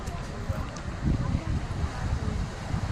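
Night wind blows across a beach in Pondicherry while sea waves wash in, a steady rumbling roar with gusty low surges and no clear voices.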